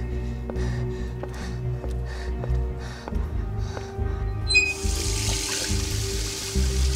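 A tap starts running in the video game Beyond: Two Souls, a steady broadband splash of water arriving partway through over a low hum and faint tonal background sounds.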